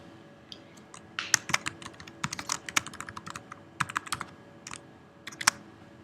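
Computer keyboard being typed on to enter a message, a close, quiet run of irregular key clicks in short clusters over a faint steady hum, with no talk.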